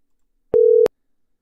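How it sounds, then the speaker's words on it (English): A single short electronic phone tone on a call, one steady beep lasting about a third of a second, clean and isolated against silence. "can you guys hear that ringtone?"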